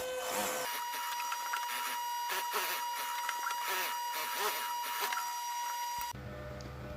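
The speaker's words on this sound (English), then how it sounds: "Sew the lining." A sewing machine stitches fabric lining pieces for a handbag made from a gift bag, running as a steady close mechanical drone for about six seconds before stopping abruptly.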